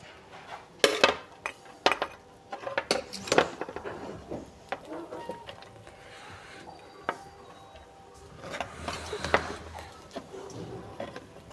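Beef akhni pulao being dished out of a pot, with scattered clinks and scrapes of metal utensils against pots and dishes, loud close knocks early and again near the end, over quiet kitchen background.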